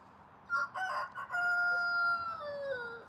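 A rooster crows once, a long drawn-out call that rises and then trails off, fairly close against quiet outdoor background.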